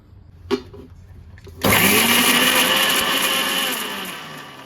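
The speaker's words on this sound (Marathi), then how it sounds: "आणि हे आता मिक्सरमध्ये वाटून घ्यायचं." A kitchen mixer grinder grinds a masala stuffing for brinjal, starting after a couple of clicks and whirring loudly and steadily up close before slowing slightly toward the end.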